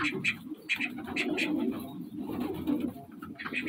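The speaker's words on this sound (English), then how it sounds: "Pigeons." Pigeons cooing in a backyard loft kept with guinea fowl, soft repeated low coos pulsing steadily over about four seconds, with brief higher chirps mixed in and faint background voices.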